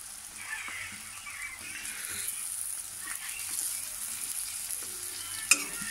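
Potatoes frying in oil in a pan for an Assamese pork dish, a steady soft sizzle with occasional stirring scrapes and a sharp clink near the end, no talking.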